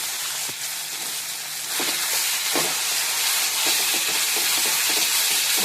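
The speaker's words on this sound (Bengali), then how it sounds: "মশলাটা ভালো করে কষাতে হবে" Spice masala frying in a pan with bay leaf and black cumin, a continuous loud hissing sizzle that grows a little stronger midway, with occasional soft clicks of stirring and no talk.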